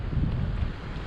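Wind gusts at a beach while fishing, a steady low rumbling buffet across the microphone with no pauses, fairly loud and alone without voices.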